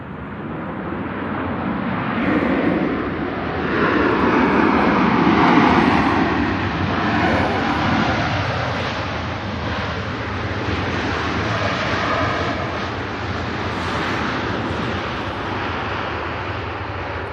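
An airliner lands on the runway at Manchester Airport, producing a broad, steady engine and wind roar that swells around the middle and then holds at an even level, with no voices present.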